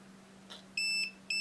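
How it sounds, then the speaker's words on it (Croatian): Clamp meter's non-contact voltage detector, held near a running fan, gives two sharp, high electronic beeps after a soft click, fairly loud against a low steady hum. "Više crtica i brže bipa ako je napon veći"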